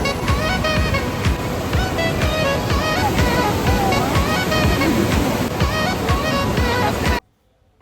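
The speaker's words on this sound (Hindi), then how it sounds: "इस प्लेस का नाम था लिंगमाला वाटरफॉल।" Lingmala waterfall in Mahabaleshwar roars in the monsoon, a dense, loud, continuous rush of water up close, with faint voices mixed in before it cuts off abruptly.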